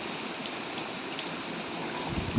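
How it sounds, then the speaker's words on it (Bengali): Heavy monsoon rain pouring nonstop onto trees and ground, a dense, even hiss of falling water at moderate volume with no breaks. "কখন থামবে বলো তো জলটা?"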